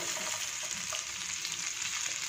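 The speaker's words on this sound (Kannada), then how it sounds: "ಈಗ ಇದಕ್ಕೆ ಸಣ್ಣದಾಗಿ ಕಟ್ ಮಾಡ್ಕೊಂಡಿರೋ ಒಂದು ಈರುಳ್ಳಿನ ಸೇರಿಸ್ತಾ ಇದ್ದೀನಿ" Finely chopped onion sizzles and fries in a pan as the base of a restaurant-style gravy, giving a loud, steady crackling hiss with faint stirring scrapes and no voice.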